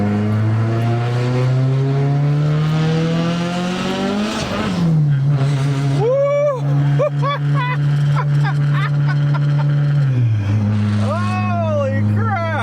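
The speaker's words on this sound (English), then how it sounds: "Alright, I'm gonna put this thing into second, and we're just gonna rev it out and see what it does." A Chevy Cruze engine revs hard in second gear. Its loud, close tone climbs steadily, drops sharply, holds, then rises again with squealing, sweeping overtones.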